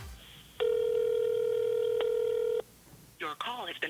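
A phone number is dialed: one long steady touch-tone beep of about two seconds, loud and close, followed by brief speech.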